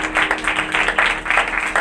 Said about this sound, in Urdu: زوردار تالیاں روح القدس کے لیے